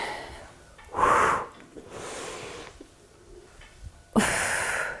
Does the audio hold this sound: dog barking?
no